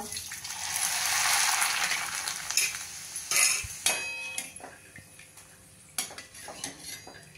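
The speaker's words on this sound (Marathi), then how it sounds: "पहिल्यांदा आपण थोडे थोडे घालून मक्याचे पोहे तळून घेऊया." Corn flakes frying a little at a time in a cup of hot oil in a small kadhai: a broad sizzling hiss swells over the first few seconds and then fades, followed by scattered clinks of a utensil against the pan.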